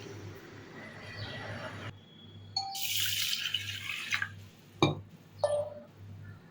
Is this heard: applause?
no